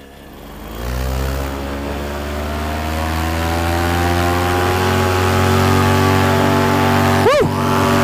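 A Dell Schanze Flat Top paramotor engine spools up for takeoff, its propeller drone climbing steadily in pitch and loudness into a sustained close roar, with a brief whooping shout near the end.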